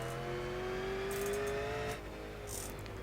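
A V8 Supercars race car at Oran Park in the iRacing sim holds a steady engine note that climbs in pitch for two seconds, then drops away as the revs fall; quiet and with no talk.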